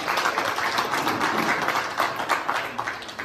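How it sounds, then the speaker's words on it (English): A crowd applauds at a koi auction event. The clapping is a dense, steady patter of many hands for a few seconds and stays fairly even throughout. "Round of applause for me"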